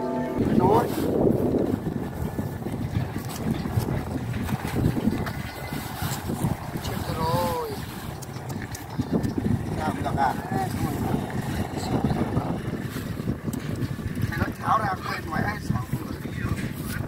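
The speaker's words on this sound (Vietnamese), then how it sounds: "Gió về." Midday wind blows over open water near a boat, making a constant rushing buffet across the whole stretch with people talking under it.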